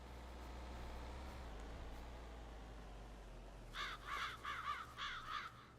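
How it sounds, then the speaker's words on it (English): Crows caw in a quick run of harsh calls inside the Farming Simulator 25 farm world, over a low engine rumble from machinery. "I hear you, birds."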